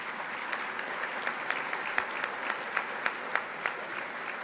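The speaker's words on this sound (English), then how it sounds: "Please give yourselves a round of applause for that." Audience applause at a Catholic school alumni dinner, a steady, fairly quiet wash of many hands clapping from across the room, with a few sharper individual claps standing out.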